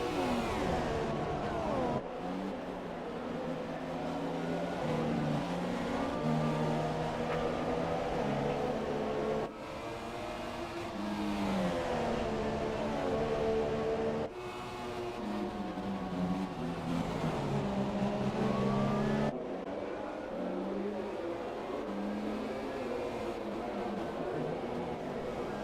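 A Formula 1 car in F1 2017 held at full throttle with DRS open on a Spanish circuit, a steady high-pitched engine wail rising through the gears with brief dips at each upshift, continuous and loud.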